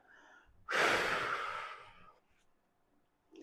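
A single strong, breathy exhale during an abdominal exercise, close and loud, fading over about a second before a quiet pause.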